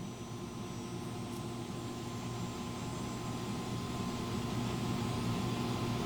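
A propane torch valve cracked open just slightly lets fuel gas escape. It makes a steady, continuous rushing hiss that holds an even level for about six seconds, with no voices.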